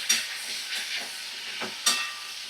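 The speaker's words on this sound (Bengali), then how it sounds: "দেখো, আমি এখনো ভাজা করছি।" Green chili fries in a little oil in a pan, with a few bursts of sizzling hiss and stirring spaced over a couple of seconds, close and moderately loud.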